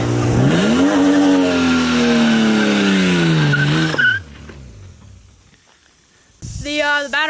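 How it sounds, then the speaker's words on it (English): A BMW E36 328i drift car doing a reverse burnout: a loud, high, sustained tyre squeal with a wavering pitch for about four seconds, then it cuts off to near silence before a brief squeal returns at the end. "Let's try reverse burnout to start with."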